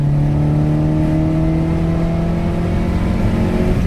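A Honda SOHC VTEC engine fitted with a D15 intake manifold pulls hard under acceleration, its steady droning harmonics climbing slowly in pitch. The sound is loud and continuous throughout, with no talking.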